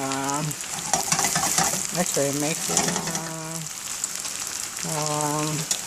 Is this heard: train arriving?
no